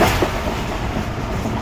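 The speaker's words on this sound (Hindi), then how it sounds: "ट्रेन हमारी आगे बढ़ रही है इस वक्त रानीपुर रेलवे स्टेशन को शिफ्ट करने के लिए" The Rehman Baba Express rolling along the rails, a close, steady rumble of wheels and carriages with a dense noisy roar and faint clatter throughout.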